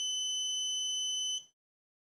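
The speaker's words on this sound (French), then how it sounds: "Le bip long émis par la plaque de rue permet de confirmer que les badges ont bien été" A single long electronic beep from an Urmet door entry street panel, steady and clear, holding for about a second and a half before cutting off into silence.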